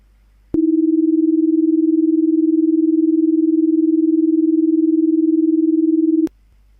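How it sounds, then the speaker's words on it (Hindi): Binaural beat tones, 300 Hz in the left ear and 320 Hz in the right, sound together as a steady pure hum with a faint rapid wobble, starting and stopping abruptly and lasting almost six seconds with nothing else heard. "अभी हम बाएं कान में 300 हर्ट्ज और दाएं कान में 320 हर्ट्ज की टोन एक साथ चलाते हैं"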